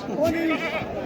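A single wavering goat bleat, close and fairly loud, with a rising and falling tone over about a second.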